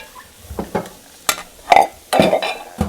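A spoon stirring a big pot of vegetable chili with onions, garlic, carrots, sweet potatoes and spices: scattered scrapes and clanks against the pot over a faint simmering sizzle, close by, a handful of separate knocks.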